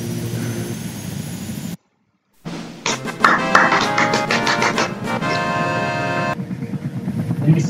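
A helicopter in the video game Mirror's Edge drones with a loud engine whine and rhythmic rotor pulses, cut by a brief silent gap before the engine noise swells back up.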